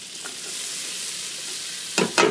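Chopped white onions sautéing in a hot pan, a steady soft sizzle throughout with two louder bursts of frying near the end as they are stirred.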